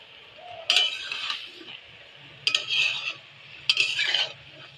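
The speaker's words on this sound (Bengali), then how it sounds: "ঢাকাটা খুলে একবার নেড়ে দেবো।" Taro greens are stirred in a pan after its lid is taken off, giving three separate bursts of metal spatula scraping and clinking against the cookware with quiet gaps between them and a faint simmer underneath.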